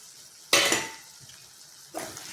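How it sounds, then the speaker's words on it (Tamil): Oil sizzles sharply as boiled egg pieces drop into a hot pan of spiced masala oil, with a second burst of frying a moment later and quiet crackling in between. "எண்ணெய் பிரிஞ்சு வரும்போது இந்த நறுக்கி வச்சுருக்க முட்டை பீஸ் எல்லாத்தையும் சேர்த்துக்குவோம்"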